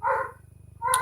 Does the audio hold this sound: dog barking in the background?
yes